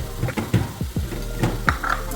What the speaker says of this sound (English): I'm gonna make it a stir-fried vegetable